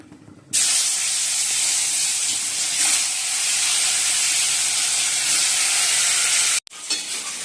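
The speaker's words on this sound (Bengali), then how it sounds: "এদিকে মাছটাও ভেজে নিচ্ছি" Fish rubbed with salt and turmeric fries in hot oil in a wok, making a loud, steady sizzle and hiss that runs unbroken for several seconds, then cuts off briefly near the end.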